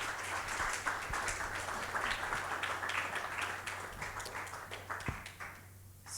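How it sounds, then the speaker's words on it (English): Sustained round of applause from a conference session audience, dense steady clapping throughout that thins out toward the end. "let's give Heidi one more round of applause"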